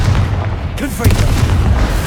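A Confringo spell explosion in the PS5 game Hogwarts Legacy: a heavy boom bursts out about a second in, amid dense combat noise, with a voice shouting over it.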